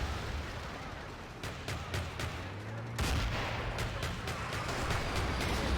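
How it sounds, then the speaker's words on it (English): Bombs and artillery fall in a Battlefield 2 31-versus-31 match as a dense rumble of repeated blasts and gunfire, with sharp impacts recurring through steady battle noise. "More bombs coming down."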